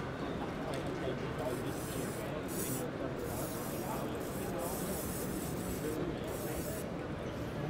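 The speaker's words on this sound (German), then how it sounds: "Dann nehme ich die Fichte wieder da, sprühe die wieder rein." A steady, loud spray hiss fills the air as a model fir tree made of thin 0.4 mm wire is sprayed, continuous with brief dips in intensity, and no voices are heard.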